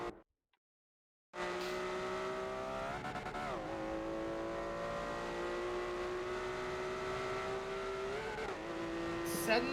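A pink Ferrari Challenge race car roars around Mugello in a racing video game, opening with a brief silence before a loud, sustained engine tone rises and dips through gear changes, with a voice talking faintly over it.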